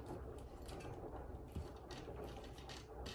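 Mechanical ratcheting and gear-like clicking while unscrewing the foot of a camera tripod, a steady close clatter with a brief sharper knock midway, no talking.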